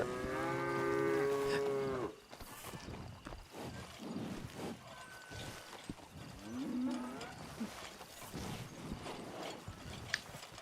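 Cattle moo loudly in Red Dead Redemption 2, a long tonal low for about two seconds, followed by quieter in-game rustling, clopping and mechanical sounds with another faint moo mid-clip; no talk.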